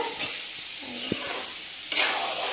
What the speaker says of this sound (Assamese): কঁঠালখিনি আমাৰ ভাজা হৈ গৈছে